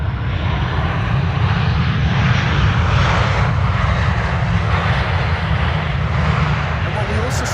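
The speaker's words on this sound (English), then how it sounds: "KLM 737 also doing a little wheelie" A KLM Boeing 737 jet lands at Amsterdam Schiphol Airport with loud, close, sustained engine rumble and roar that fills the clip. A voice talks over it.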